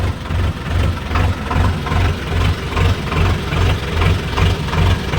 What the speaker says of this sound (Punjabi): ਤੇ ਟਰੈਕਟਰ ਆਪਣਾ ਇੱਥੇ ਰੋਕ ਦਿੰਨੇ ਆ